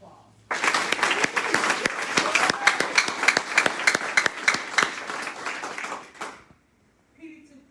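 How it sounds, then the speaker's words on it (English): Audience applause for honor graduates at a pharmacy class graduation ceremony: crisp, dense clapping starting abruptly and sustained for about six seconds, then cutting off, with a brief murmur after. "Please give the distinguished honor graduates a round of applause."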